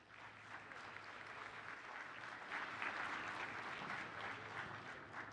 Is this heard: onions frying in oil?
no